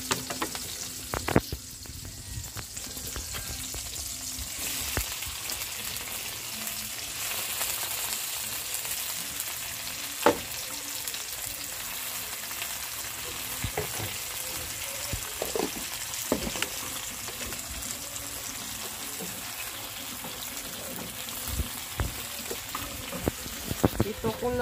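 Squid for adobong pusit sizzles and fries steadily in a pan, a continuous crackling hiss with scattered stirring clicks and taps, close and fairly loud, with a voice talking briefly over the cooking.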